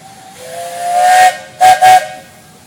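A steam traction engine's whistle blows one long hissing blast, then two short sharp toots, loud and close, at a steam engine show in Rushville, Indiana.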